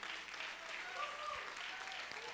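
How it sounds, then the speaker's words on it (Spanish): A church congregation applauds during a Spanish-language service, a steady, dense patter of clapping that holds evenly for a couple of seconds with no pauses. "aplauda, sí, aplauda"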